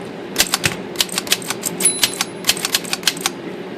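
A reconditioned Corona Folding three-bank typewriter fitted with new rubber feet clacks under quick, uneven keystrokes, a close and crisp run of a dozen or so sharp strikes with no voices.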